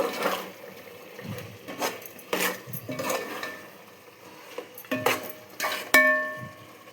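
A spoon stirs garam masala powder into chicken biryani in a pot, giving several separate scraping and knocking strokes against the metal, with a brighter clink near the end and no talking.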